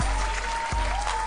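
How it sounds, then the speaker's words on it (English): Applause from a live podcast audience, a dense steady wash of hand clapping that fills the whole moment at even loudness, with a brief voice underneath. "Give a hand clap for Jamal Bowman."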